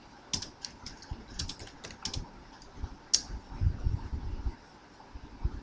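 Keys clatter on a computer keyboard as a SQL query is typed, short bursts of crisp clicks with brief pauses between and one sharper keystroke near the middle, close and clear.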